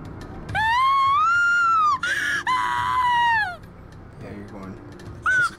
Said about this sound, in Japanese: 私の体の奥からお腹の底から悲鳴が絞り出されてきた